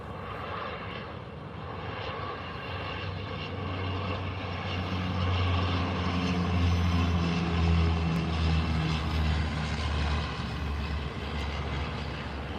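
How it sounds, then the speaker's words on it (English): A Flair Airlines Boeing 737 MAX 8 on final approach to Calgary airport gives a steady, loud jet engine roar with low rumble, swelling gradually toward the middle and holding strong as it passes, with no talking. "After that is a Flare 737 MAX 8 on final."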